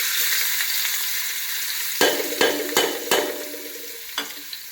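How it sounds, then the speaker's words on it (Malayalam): Chopped ginger, garlic and green chili frying in a hot pan for a kappa biriyani, a loud steady sizzle broken by several sharp spatula scrapes and clinks. "അതിലേക്ക് നമ്മൾ ഇഞ്ചിയും വെളുത്തുള്ളിയും പച്ചമുളക് അരിഞ്ഞത് ഇട്ടിട്ടുണ്ട് കേട്ടോ ആദ്യം കേട്ടോ"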